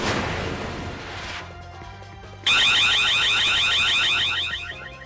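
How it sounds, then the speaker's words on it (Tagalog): CCTV security alarm system at a warehouse in Punta Santa Ana, Manila, blaring loudly with a harsh, pulsing electronic tone after a burst of noise, close and continuous. "Biglang tumunog ang alarm system ng CCTV camera sa isang bodega"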